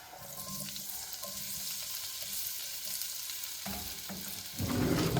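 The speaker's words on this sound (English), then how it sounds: "I'm just letting the skillet get a little more up to temperature so I can put the taters in" Potatoes go into a skillet of rendered beef tallow, a low background sizzle with light utensil clinks, then a louder burst of frying near the end as they hit the fat.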